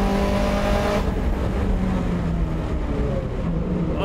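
Subaru race car lapping Buttonwillow Raceway in a Global Time Attack session, its engine droning loud and continuous from inside the car, the pitch easing after a lift, then climbing again under throttle.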